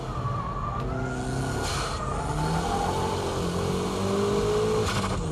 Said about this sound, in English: What do you do when it's all wet like this? Just pull the old e-brake.